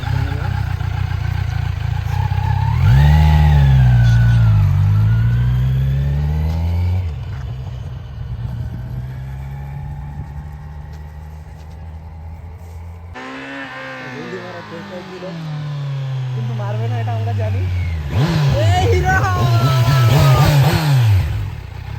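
A 2023 Kawasaki Z900 superbike revs and rides, its engine rising and falling in several surges, some loud and near and some softer, with people talking over parts of it.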